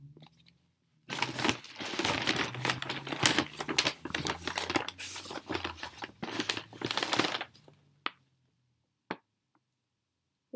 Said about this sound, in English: Oh, you just peel it off.